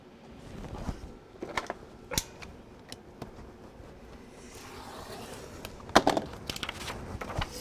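Paper pieces for a snow-themed scrapbook album being cut apart, with scattered crisp snips and creaks and a busier cluster of cuts near the end, close and fairly quiet.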